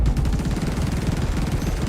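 A ballistic weapon fires in rapid bursts in the space game Star Citizen, a dense, loud, fast-repeating stream of shots hammering continuously throughout without pause.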